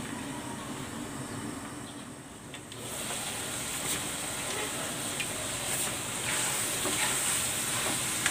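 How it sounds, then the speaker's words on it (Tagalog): Ginataang puso ng saging, banana heart in coconut milk, bubbling in a covered pot: a steady, soft sizzle and hiss that runs throughout at close range, with no voices. "Lulutuin natin yan hanggang sa matuyo yung nilagay nating gata."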